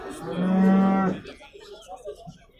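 A dairy cow with her calf lets out one loud, close, drawn-out moo, followed by faint rustling and soft background noise.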